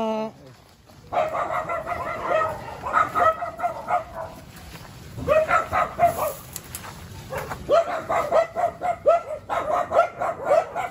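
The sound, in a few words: dogs barking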